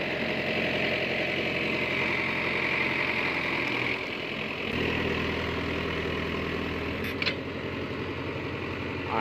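Mahindra Yuvo Tech+ 585 4WD tractor with a five-tine cultivator on farmland, its diesel engine running steadily near 1500 RPM with a deep throbbing hum, a brief dip midway, then a steady run again.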